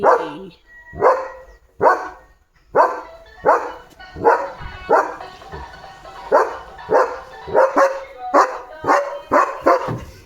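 A German Shepherd barks repeatedly and loudly close by, about a dozen deep barks in an uneven rhythm with brief pauses between them.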